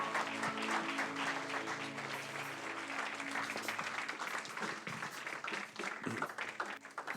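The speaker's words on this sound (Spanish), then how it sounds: "Dale un aplauso fuerte al Señor." A church congregation at a Christian service applauds together in a sustained, even wash of clapping, heard faint and distant with a low hum of instruments underneath.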